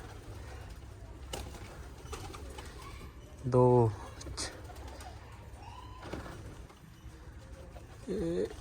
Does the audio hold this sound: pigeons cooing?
yes